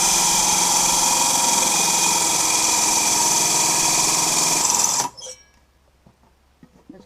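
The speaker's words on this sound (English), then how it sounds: "I just started to cut the bottom of it with the hole saw, and it seems to be working" A hole saw grinds steadily through the bottom of a metal sink for about five seconds, a loud continuous whine that stops abruptly, leaving a few faint clicks and knocks.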